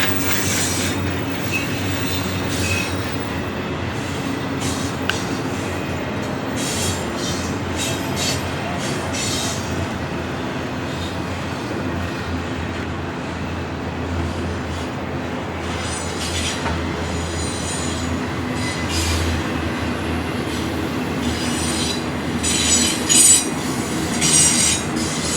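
A long freight train rolls past continuously in Williams, Arizona, steady rumbling with wheel squeal and clattering along the rails throughout, fairly close.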